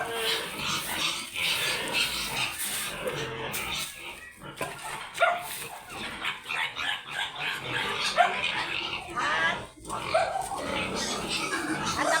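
Pigs grunt and squeal in irregular bursts while being fed on a farm, close and fairly busy, with a person talking over them.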